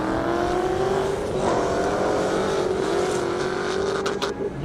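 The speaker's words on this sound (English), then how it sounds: "Look at that car go." A race car roars under hard acceleration at a half-mile airstrip speed event running on blended ethanol fuel, a loud continuous engine drone with a rising pitch that holds steady throughout.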